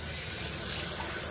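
Steady hiss of water spraying from a regular garden sprayer while puppies are bathed, a continuous broadband rush at close range with no breaks and no talking.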